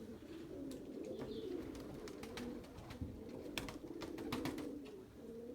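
White Erzurum pigeons coo softly and repeatedly at close range, with low throaty calls overlapping against faint background noise.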